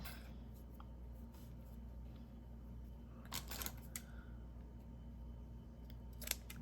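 Scissors snip through earring-making material at a craft table, a few quiet, sharp clicks spaced out over a soft background hiss, with no talking.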